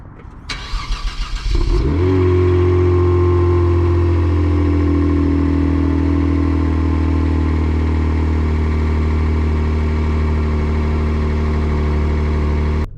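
A 2019 Kia Stinger GT AWD with a 3.3-liter twin-turbo V6 cranks for a moment, catches with a loud rising flare and then settles into a steady, deep, even idle close by, with no talking.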